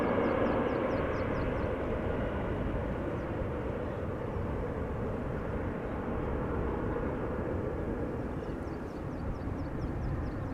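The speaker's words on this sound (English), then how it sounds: "KLM 737-800 outbound to Gothenburg in Denmark" A KLM Boeing 737-800 departs Amsterdam Schiphol Airport outbound to Gothenburg, its engines making a loud, steady broadband roar that holds for the whole stretch with no voices.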